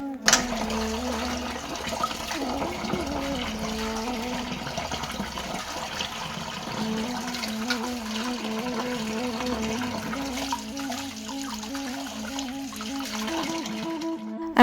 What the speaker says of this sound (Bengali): শাকগুলো ভালো করে ধুয়ে নিলাম